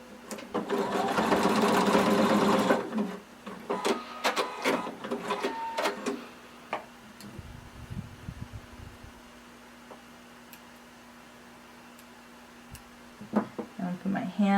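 A sewing machine stitches elastic into a swimsuit through all layers, a loud fast burst at the start, then handling clicks and a faint hum with brief short runs of stitching.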